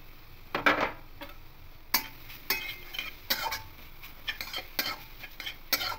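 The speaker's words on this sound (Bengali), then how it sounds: "একটু হালকা নাড়াচাড়া করে নেব।" Grated coconut stirred in a wok for a sweet pitha filling, with a spatula scraping the pan in irregular bursts of clicks and scrapes over a faint sizzle, close and fairly quiet with no talking.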